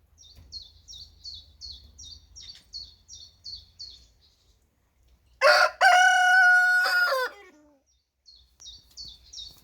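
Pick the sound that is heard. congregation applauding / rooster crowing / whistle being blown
rooster crowing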